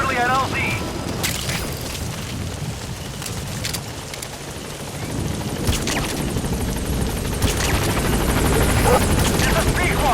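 The Pequod helicopter in Metal Gear Solid V arrives at a landing zone, its rotor chop loud and continuous with heavy booming bursts and a clanking mechanism, while a voice speaks over the din.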